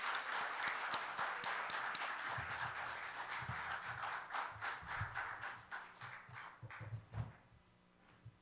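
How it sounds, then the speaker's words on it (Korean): A lecture-hall audience at a Thursday theology lecture gives sustained applause of many hands, steady and dense, welcoming the lecturer to the podium; it thins slightly toward the end with a few louder individual claps and some low room noise. "송순열 교수님 출동하실 때 박수로 환영하시기 바랍니다"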